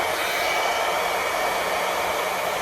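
A hair dryer brush blows steadily over curly hair, a loud, continuous broadband whoosh with no pauses and no voices.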